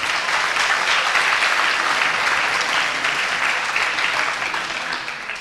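Sustained applause from an audience at the opening session of an agile software conference in Montpellier, honouring a student team from the EPSI school, steady broadband clapping at moderate level with no talk over it.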